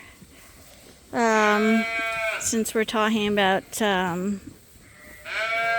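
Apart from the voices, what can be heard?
ram lambs bleating in pen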